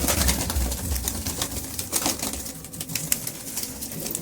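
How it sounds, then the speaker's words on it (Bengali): Rampuri pigeons, black-bellied and big-bodied, cooing and shuffling close by, with wingbeats and flapping breaking in now and then over a steady, busy rustle. "এই দেখেন রামপুরি পায়রা"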